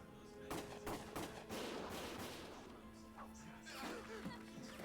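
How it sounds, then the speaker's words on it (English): Gunfire in the war video game Valkyria Chronicles: a quick series of sharp, loud shots and impacts in irregular bursts, with tonal game music or ambience running underneath. "Gunfire!"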